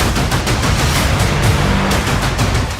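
Israeli artillery firing shells along the Gaza border, a dense, continuous barrage of loud booms and crackling blasts overlapping one another without pause.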